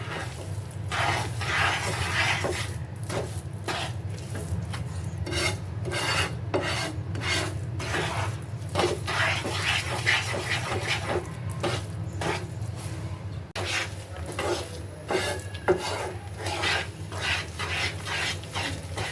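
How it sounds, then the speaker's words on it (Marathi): Amrut Pak barfi mixture is stirred steadily in a pan, a continuous close rasping scrape of the spoon against the thickening mass with rhythmic strokes throughout. "मिश्रण व्यवस्थित हलवायचं आहे जेणेकरून वड्या पडण्या इतपत बर्फी होण्या इतपत ते घट्ट होईल"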